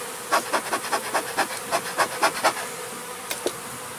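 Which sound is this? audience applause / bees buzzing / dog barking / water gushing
bees buzzing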